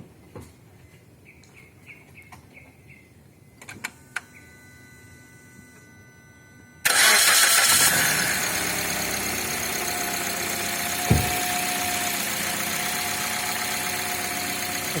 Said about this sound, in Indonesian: saya hidupkan dulu mesinnya